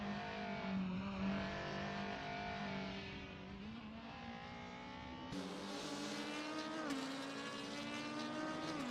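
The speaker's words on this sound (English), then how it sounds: "Bot Juspantakis is driving a 2018 Skoda Octavia" A 2018 Skoda Octavia races in a video game with other cars close by, its engine droning steadily and rising and falling in pitch as it shifts through gears, loud and with no talking.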